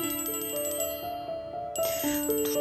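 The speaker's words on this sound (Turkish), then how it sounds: "Dur bir tane şu telefonu bakayım." A mobile phone rings with a bright electronic melodic ringtone, repeating tonal notes rising and falling, close and clear without speech.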